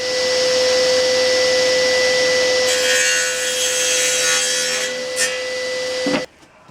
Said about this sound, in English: So I've been cutting up quite a large piece of old oak that I picked up.